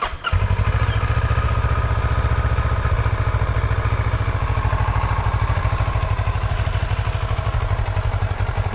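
A 2012 Kawasaki ER6N non-ABS motorcycle engine starts with a brief crank and settles into a loud, steady, throbbing idle with a fast, even pulse that continues unbroken up close.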